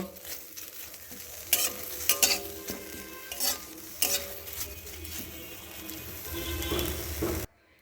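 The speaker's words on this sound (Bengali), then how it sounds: "কড়াইয়ের মধ্যে ধুয়ে রাখা সব নিম পাতাগুলোকে পুরোটাই দিয়ে দিলাম এই নিম পাতাগুলোকে এইরকম শুকনো খোলায় একটু মুচমুচে করে ভেজে নেব" Washed neem leaves dry-roasting in a kadai until crisp, with steady close scraping and rustling as they are stirred, a few sharper clinks of the spoon against the pan, then an abrupt stop.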